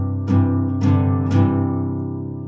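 Three strummed guitar chords ring out one after another at an even pace, each attack sharp and bright before sustaining and slowly fading.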